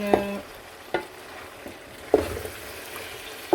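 Potato bhujiya frying in a pan, with a spoon stirring it in a few sharp scrapes and knocks over a low steady sizzle, fairly close and with no voices.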